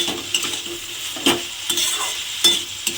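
A spoon stirs turmeric powder into a potato and pointed gourd curry, giving repeated scraping strokes against the pan over a steady background sizzle.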